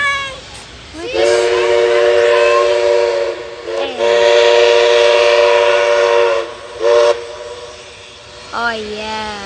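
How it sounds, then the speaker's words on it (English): The Kiama picnic train passes at Unanderra and sounds its whistle loudly in several long, sustained blasts. Shorter toots come between the blasts, over a rumble of rail noise, and no one speaks. "Bye-bye, train."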